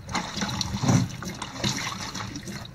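Gurgling, trickling water with irregular splashes and a rhythmic creak, a hand pump drawing water and working air out of the line in uneven spurts, close by.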